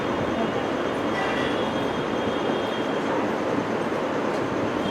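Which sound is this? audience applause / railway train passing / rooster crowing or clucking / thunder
railway train passing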